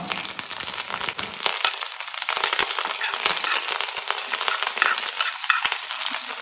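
Dried red chillies and curry leaves sizzling in hot oil for a tempering, a loud steady crackling fry with scattered sharp pops, alone without talk.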